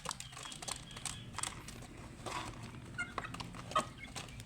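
Large farm chickens (Asil-type fowl) clucking and calling at a distance on a rural farm, with scattered short calls and a brief louder squawk over faint background noise.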